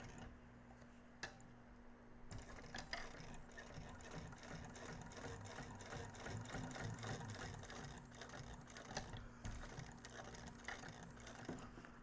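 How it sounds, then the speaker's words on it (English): A sewing machine stitching an accordion wallet runs in a quiet room with a rapid ticking mechanical rattle and a steady hum, with a few brief clicks and faint background noise. "Go back to sewing."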